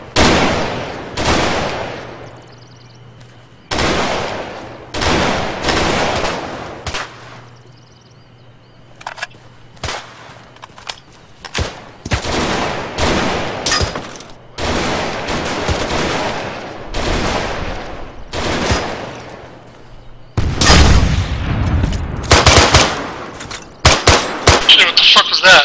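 Gunfire in the video game Arma III comes in loud, close bursts of rapid automatic shots with short pauses between volleys, ending in a dense final flurry.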